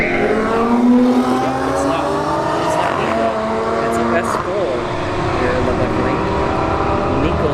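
A Chevrolet Corvette C8 and an Audi S5 drag race at Bradenton Motorsports Park, with a loud, dense roar of engines that stays strong throughout and a voice talking over it.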